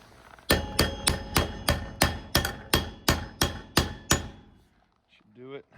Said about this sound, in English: just tap with the hammer